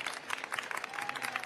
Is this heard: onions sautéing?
no